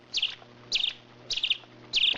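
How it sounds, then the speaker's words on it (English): A single bird gives four short, bright chirps, evenly spaced about every half second, fairly faint against a quiet background hum. "A bird chirps."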